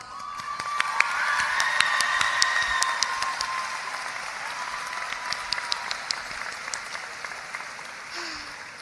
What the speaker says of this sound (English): I believe our parents are overdue for a long applause.